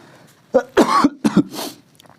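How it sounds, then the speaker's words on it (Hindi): A lecturer teaching a railway exam math class coughs several times in quick succession. There are about four or five sharp, close bursts over two seconds, some harsh and throaty, and no talking between them. "थोड़ा सा खांसी हो गया है"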